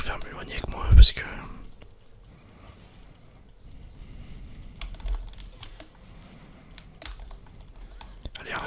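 Keyboard keys tap in short, soft bursts during a League of Legends match, with a whispered French voice speaking softly over the clicks and a louder knock near the start.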